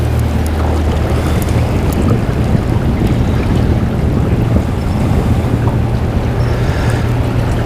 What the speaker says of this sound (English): I'm going to move the boat a little bit, Charlie.